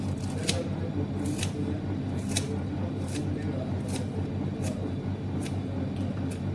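Kitchen scissors snip finely through leafy vegetables such as fenugreek and spinach, giving a steady run of sharp, evenly spaced cuts about every 0.7 seconds, close up over a constant low hum.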